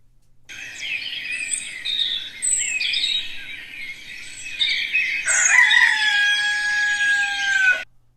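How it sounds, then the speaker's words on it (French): A relaxation recording of birdsong and rooster calls played from an Android app: loud, close bird chirps and trills lead into a long rooster crow near the end, with no talking. "écouter les bruits relaxants des oiseaux"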